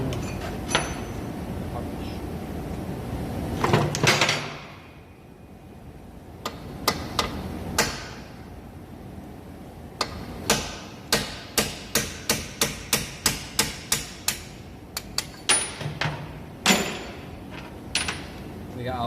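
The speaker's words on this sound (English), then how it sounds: "so now we need to like punch the little bolt out." A Hyundai i10 front wishbone ball joint bolt is punched out with a hammer: sharp, loud metallic strikes, first scattered, then a fast regular series of about a dozen blows, with a few more after a pause.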